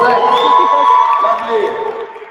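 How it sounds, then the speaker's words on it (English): Workshop audience in Soshanguve cheering and whooping, a short burst of crowd shouts and light applause carried close and fairly loud before tapering off. "Let's give her a proper round of applause, please."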